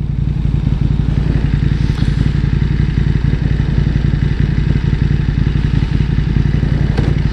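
A KTM 1290 Super Duke R motorcycle on the move, a loud, constant low engine drone with rough wind buffeting, heard close throughout with no speech.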